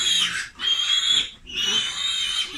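A mother pig and her piglets squeal on a piggery farm: loud, shrill, sustained squealing in three overlapping bursts with brief dips between them, close by.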